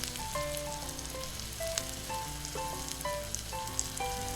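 Tomato going into a pan of frying pork menudo, a continuous close sizzle with crackling pops and faint clinks of a utensil, no talking.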